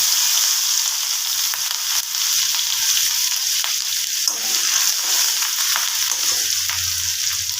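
Turmeric and ginger fry in hot oil for a vegetarian potato and pointed gourd curry, giving a steady, fairly loud sizzle with no voices.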